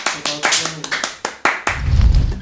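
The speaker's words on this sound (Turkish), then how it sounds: "Alkış alkış." A few people clap in a sharp, uneven rhythm of distinct slaps after a guitar lesson sing-along, close and loud, ending in a rougher rumble of noise.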